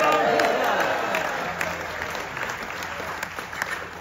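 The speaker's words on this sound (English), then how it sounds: "Everyone give my dad a big cheer." A live comedy audience breaks into loud applause and cheering, a dense burst of clapping that slowly thins out over a few seconds, with a voice speaking over it.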